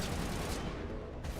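Assault rifle fire in Mass Effect 1 roars as a dense, continuous burst of rapid shots, loud and close, with no voices.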